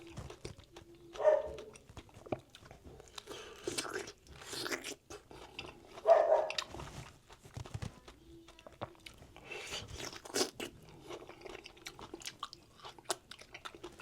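Close crunchy bites and wet chewing of freshly washed fruit during a mukbang, coming in irregular bursts with quiet pauses between mouthfuls.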